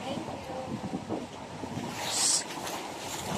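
Strong wind gusting at a beach, a steady rushing roar with buffeting bursts against the microphone and people talking faintly underneath.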